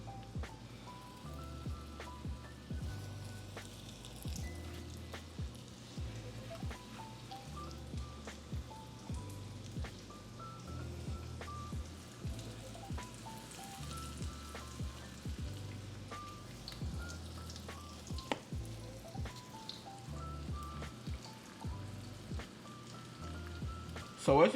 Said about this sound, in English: I'm just shallow frying these pork chops